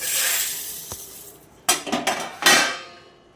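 Homemade spice mix being tipped from a plate into a mixer grinder jar, with a soft scraping hiss followed by several sharp metallic clinks and clatters against the jar.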